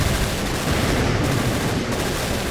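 An MG42 machine gun rattles in rapid, dense bursts in the Men of War: Infinite beach assault, mixed with other gunfire and battle din, loud and continuous.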